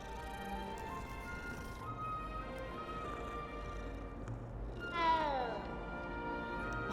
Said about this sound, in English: Oh, I can pet a cat.